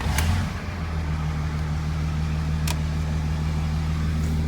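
A 3rd gen Cummins dually truck drives down the road, its diesel engine droning in a steady low hum inside the cab, with a couple of faint clicks.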